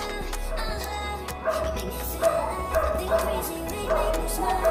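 A mixed-breed dog outdoors gives a series of short yips and barks, four or five evenly spaced, moderately near, over constant background hum and noise.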